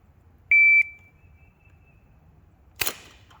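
An Umarex StrikeForce air gun fires with a sharp short crack outdoors, after a brief electronic beep tone, pellet aimed at cans about 7 yards off.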